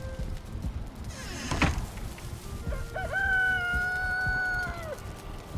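Chickens in the video game Valheim, with a rooster-like crow rising and holding steady for a couple of seconds near the end over a busy in-game background of ambient noise.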